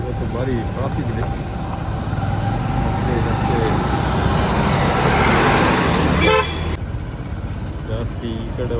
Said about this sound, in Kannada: ಇವತ್ತು ಭಾರಿ ಟ್ರಾಫಿಕ್ ಇದೆ.